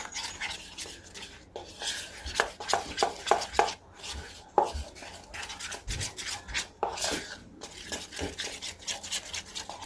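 A thick plaster of Paris mixture is stirred by hand, giving irregular scraping and rubbing strokes with sharp clicks of the tool against the container, fairly quiet and close.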